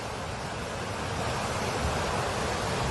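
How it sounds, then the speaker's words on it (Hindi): The flooded Parvati river at Manikaran in Kullu roars in a steady, loud, unbroken wash of rushing water, with no voices over it. "ये रौद्र आवाज पार्वती नदी की ही है जो आप सुन रहे हैं"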